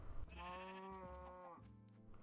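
A baby cow in Minecraft lets out a single drawn-out, nasal moo lasting over a second, faint and close, followed by quieter low rumbling.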